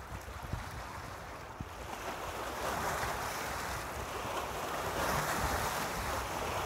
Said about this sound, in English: listen to the splashing waves beneath the River Zen studio